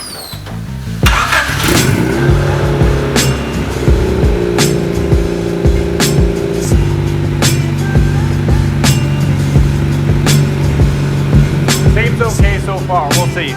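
An engine cranks and fires after a cooling system repair, then settles into a steady, loud idle close by with a few clicks and bumps, and a voice briefly speaks near the end.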